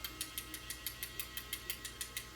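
A Dremel tool tapped repeatedly on a dog's nails gives a quick, even run of about fourteen light clicks over a soft, steady motor hum, close and fairly quiet.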